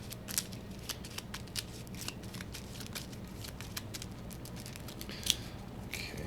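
A deck of Gloomhaven: Jaws of the Lion modifier cards is shuffled by hand at a tabletop, giving a series of soft, quick riffling flicks and snaps at close range, fairly quiet, with no talking.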